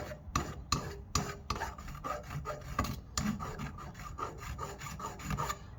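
A hand file rasps back and forth along the edge of a metal sunroof plug bracket for an EF Civic hatchback, about a dozen rhythmic strokes, close and steady with no voices.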